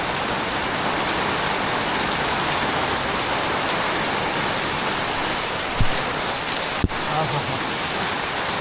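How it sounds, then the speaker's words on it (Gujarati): Heavy monsoon rain pours steadily at the Pavagadh hill temple, a dense continuous hiss of drops on surfaces, with a couple of brief knocks near the end. "બહુ વરસાદ પડે છે."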